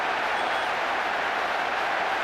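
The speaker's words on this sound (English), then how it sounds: "Even some of the opposing fans are clapping that." Football crowd applauding a goal in a soccer video game, a steady dense wash of clapping and crowd noise that holds at an even loudness throughout.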